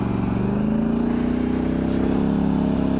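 A loud Polaris Sportsman 1000 XP High Lifter ATV engine drones steadily close by, its pitch rising slightly as it accelerates, with no talk.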